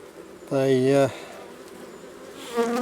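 Honey bees at a beehive on a farm fly past close by, producing two loud droning buzzes with a steady pitched hum, the first about half a second long and the second shorter and fainter.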